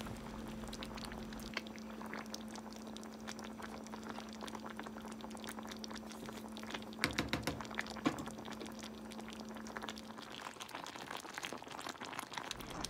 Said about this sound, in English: Just let it simmer until the veggies are fully cooked.